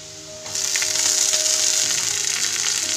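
Green chillies sizzle and crackle after being added to lightly browned onions in a pan, a steady close frying hiss that starts abruptly and holds without talk.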